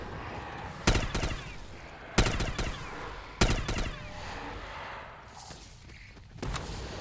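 The Galil rifle fires in the Call of Duty Black Ops 3 Zombies video game, with three sharp bursts of gunfire spaced about a second apart. A fainter shot follows after a pause, over a steady low game ambience.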